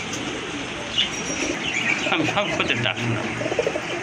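Pair of pigeons offered for sale cooing repeatedly at close range, low throaty calls under a background of other birds chirping and a voice speaking intermittently.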